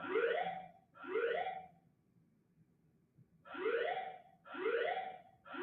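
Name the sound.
building fire alarm sounding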